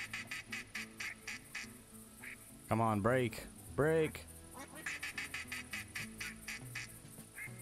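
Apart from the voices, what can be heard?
ducks quacking in video game theHunter Classic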